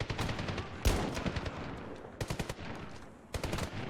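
Sniper rifle fire in the Medal of Honor (2010) video game, several sharp cracking shots spaced apart with echoing tails, loud and close, with no talking.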